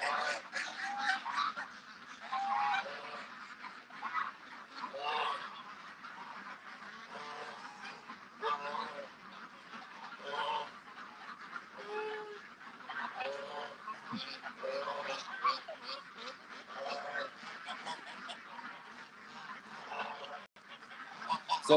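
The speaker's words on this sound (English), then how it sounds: "that's a mess of ducks, isn't it, Strawberry?" A large flock of ducks and geese at a feeding rush quack and honk continuously, a busy overlapping chorus of calls at moderate distance that swells and dips throughout, with a person talking now and then over the birds.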